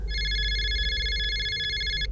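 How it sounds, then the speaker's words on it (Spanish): A telephone rings in one steady electronic trill lasting about two seconds over a low background hum, with no voices. "Volvió a sonar el teléfono."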